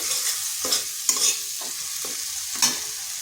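A spatula repeatedly scrapes and stirs ground spice paste with water in a frying pan, a steady hiss of sizzling under rhythmic close strokes.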